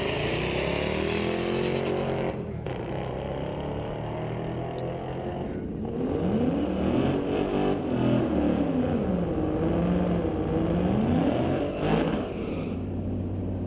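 A Ford Mustang on a street-legal drag strip roars down the track, its engine rising and falling through gear changes in loud sweeping tones, steady and prominent throughout.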